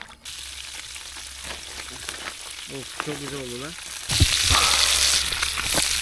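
Steady broadband sizzle of fish frying in a pan at a seaside camp, with someone speaking briefly in Turkish over it and the hiss growing louder toward the end.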